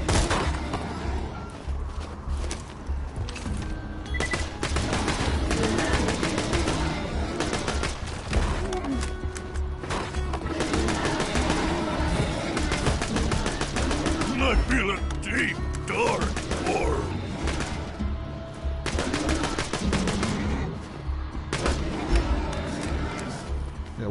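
Pistol fire in Borderlands 2, quick bursts of sharp shots with crashes and impacts, heard under frequent excited talking and game noise.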